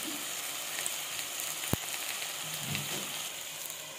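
Tomatoes fry and soften in a pan over a low flame, giving a steady, fairly quiet sizzle with one sharp tap partway through.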